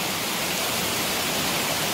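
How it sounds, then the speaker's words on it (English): Broadband rushing roar of the waterfall at Lost Creek Falls, a steady, close, unbroken wash of falling water with no pauses or voices. "welcome to the top of my waterfall"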